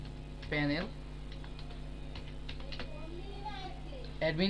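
Someone types on a computer keyboard, filling in a notice on a freelance order page. Light, scattered key clicks run under a nearby voice speaking throughout.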